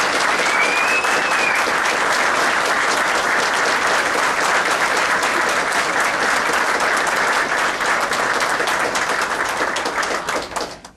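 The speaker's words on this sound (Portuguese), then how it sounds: "Gostaria aqui de uma grande salva de palmas" Sustained, loud applause from a workshop audience honoring a speaker, dense and steady for about ten seconds before fading out at the end, with no talking.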